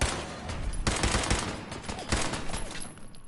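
Gunfire in Fallout 4, a dense rattling burst of shots with a couple of sharper cracks over continuous loud game noise.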